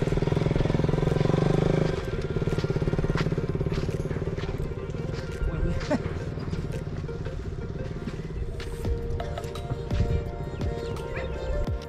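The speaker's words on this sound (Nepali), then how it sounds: "यसरी बाइक टेकिन्छ यहाँ" A motorcycle on a sandy hillside runs with a loud, steady engine drone that eases slightly after the first two seconds, with scattered thumps and crackles over the remaining run.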